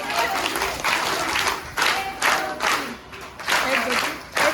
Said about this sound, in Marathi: आपल्या मावींच्या व्यवस्थापक मॅडमच्या टाळ्या टाळ्या टाळ्या टाळ्या